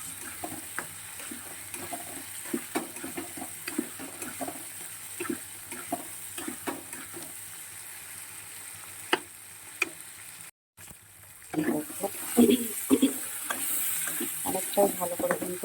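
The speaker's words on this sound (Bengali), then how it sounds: "ভালো করে কষিয়ে নিয়ে" Food is sautéed in a pan under a soft sizzle, with a spatula scraping and clicking in a loose, repeated rhythm. After a brief dropout the stirring turns busier and clattery.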